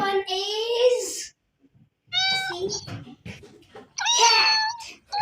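A cat gives several clear, drawn-out meows close by, separated by short pauses, with a voice heard briefly alongside.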